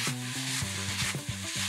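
Dry fried beef ho fun is stir-fried in a hot wok, giving a loud continuous sizzle and hiss with scraping stir strokes, close and without talk.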